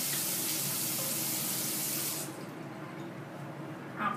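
Tap water runs steadily into a sink as a face is rinsed, a close broadband splashing that cuts off abruptly partway, leaving a quiet room with a faint trickle and a small splash near the end.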